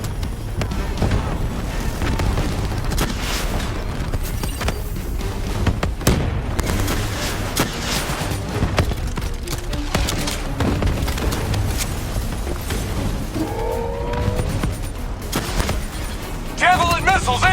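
Call of Duty Black Ops III on PS4 plays out a battle with deep booming explosions and scattered gunfire forming a dense, continuous rumble, while voices call out over the noise.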